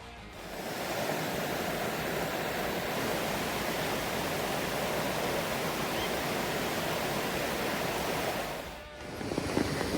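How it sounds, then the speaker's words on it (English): A waterfall beside a jungle trail to a living root bridge in Meghalaya, India roars as a steady, loud broadband rush that holds almost unbroken, dipping briefly near the end. "Look at this view, guys. There's a waterfall"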